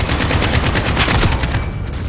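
Rapid automatic gunfire from an AK rifle in a Call of Duty multiplayer match, dense sustained bursts of shots running loud and continuous throughout.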